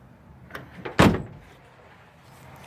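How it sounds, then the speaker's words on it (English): A single van door is shut with one loud, close thud that stands alone, with a quieter knock just before it and a faint rattle fading afterward. "Let's go ahead and shut that door for you."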